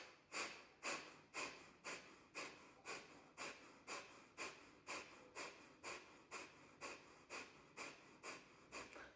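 Rhythmic forceful belly breaths pumped through the nose during a yoga breathing exercise, about eighteen sharp even pulses in steady succession, close and fairly quiet, with no talking.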